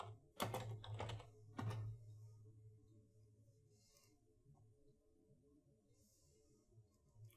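Keyboard keys clack in a few quick, sharp strokes near the start, followed by a quiet near-silent room with faint low hum; close and soft overall.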